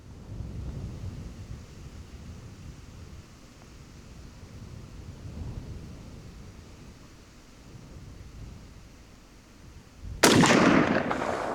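A single sharp, loud gunshot from a Zastava ZPAP M70 AK-47 rifle with walnut furniture cracks out near the end, after about ten seconds of gusty outdoor wind rumbling against the microphone.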